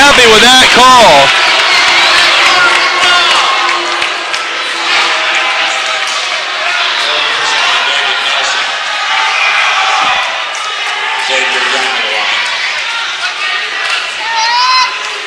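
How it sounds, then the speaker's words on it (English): Unhappy crowd in a high school basketball gym reacting to a referee's call, a loud burst of shouting and jeering that settles into a sustained murmur with scattered shouts and thuds. "this crowd is not happy. They are not happy with that call."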